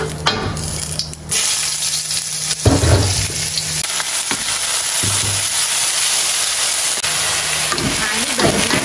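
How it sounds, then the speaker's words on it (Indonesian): Spinach and crushed garlic are sautéed in a pan, producing a loud, steady, close sizzle and frying hiss throughout, with occasional stirring scrapes and brief bursts of louder crackle. "Bayam yang ditumis di sini ya. Bawang putih yang digeprek."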